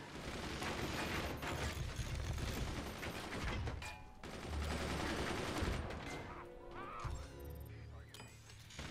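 Cannon and gun fire rattle through a Forts video game battle, dense bursts of shots and crashes with brief pauses, quiet overall, with faint talking and sharp metallic impacts near the end.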